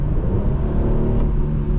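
A 2010 Infiniti FX35 AWD SUV engine heard from inside while driving, a loud, steady low drone and rumble with no talk.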